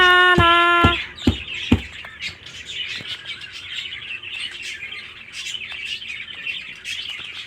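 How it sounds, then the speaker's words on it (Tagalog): Birds chirp and tweet in quick, scattered bursts, preceded by a few sharp tonal notes, with no talking. "naririnig na naman ng mga ibon na yan"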